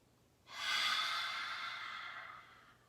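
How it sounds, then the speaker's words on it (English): One long forceful exhale in a yoga dragon breath, pushed out like blowing fire, a close breathy rush that starts abruptly and fades slowly over about two seconds, alone without talk. "We can make our big dragon breath. Breathe in. Like you're blowing fire."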